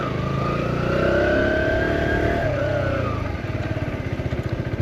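A Kawasaki Z125 Pro motorcycle engine revs up with a rising then falling whine, held close and loud, before settling into a choppy, pulsing idle-like putter near the end.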